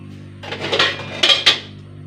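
Stirring and mixing food in a pan with coriander powder, several close metallic scrapes and clinks of a utensil against the pan in a short burst.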